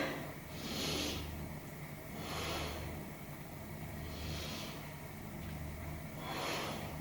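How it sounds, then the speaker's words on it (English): Slow deep breaths during a Pilates shell-pose back stretch, four long airy inhale–exhale swells at a steady relaxed rhythm, close and moderately quiet, with a low hum underneath and no talking. "3 big breaths into the back"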